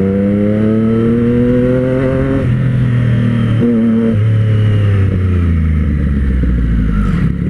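Triumph Street Triple 765 RS motorcycle fitted with a Carbox Race exhaust, revving up and down in repeated swells close by, its deep engine note rising and dropping alone without talk.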